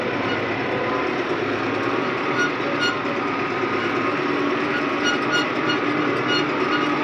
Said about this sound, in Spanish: Está bombeando ese tractor.